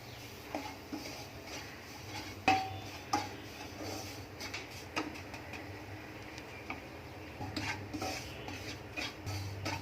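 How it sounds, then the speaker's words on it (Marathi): Semolina roasting in a spoonful of ghee while being stirred, faint quiet scraping and occasional light clinks of a spoon against the pan, with a gentle sizzle underneath. "इथे मी एक चमचा तूप टाकले आपण रवा भाजून घेऊया"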